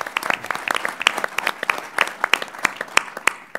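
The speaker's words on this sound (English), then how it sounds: "Let's give him a round of applause, Bob Duffy." An audience at a Governor Cuomo announcement on the AIM Photonics manufacturing site in the Finger Lakes region bursts into sustained applause, dense irregular hand claps from a crowd with no voices on top.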